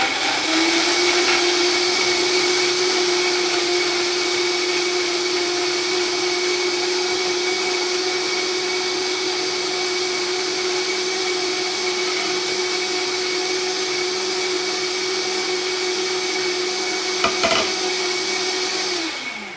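A blender runs without its vacuum function while mixing salad dressing. Its motor gives a loud, steady whirring drone for nearly twenty seconds without a break, then begins to wind down at the very end.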